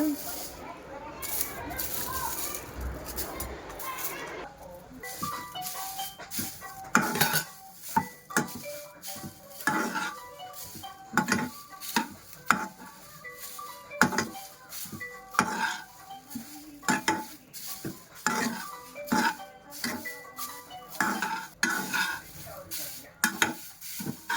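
Dried drumstick leaves fry briefly in oil, with a light sizzle beneath repeated clinks and scrapes of a utensil stirring in the pan, close and irregular, while a person talks.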